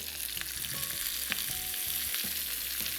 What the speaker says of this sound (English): as the peppers start changing color, now is the time that I would add my paneer in